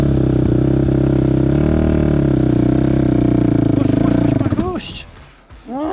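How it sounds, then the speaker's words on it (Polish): A quad bike engine idles and revs loudly up close, a droning, throbbing tone that rises and falls in pitch before dropping off near the end as the rider handles the throttle and clutch on a first lesson. "nie słyszysz jak on zmienia w ogóle obroty pracy silnika?"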